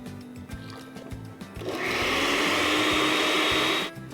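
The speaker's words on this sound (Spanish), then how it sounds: "En el mismo vaso de la licuadora donde molí el huitlacoche voy a desleír la masa." A kitchen blender mixes corn masa into huitlacoche sauce. After a few light knocks and clatters, it starts up and runs as a loud, steady whirring roar for about two seconds, then cuts off abruptly.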